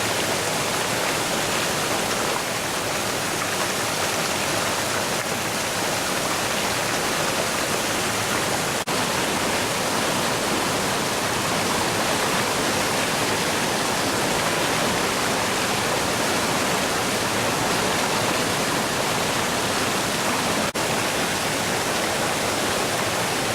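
River water pours over a weir in a steady, loud broadband rush, constant throughout with no voices.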